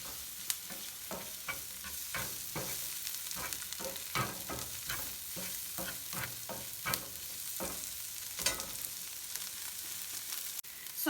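Onion, garlic and chilies sauté in a pan for shrimp tacos gobernador, a steady sizzle broken by repeated stirring scrapes and clatters, close and moderately loud with no talk.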